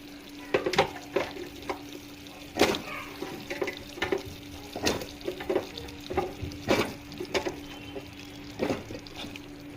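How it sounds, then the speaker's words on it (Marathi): Amla (Indian gooseberries) cooking in dissolved sugar syrup for a sweet preserve, heard as soft bubbling and wet stirring clicks with scattered sharp taps of a utensil against the pot, close and fairly quiet. "आता ह्या स्टेजला आपण याच्यामध्ये हे आवळे घालून घेणार आहोत"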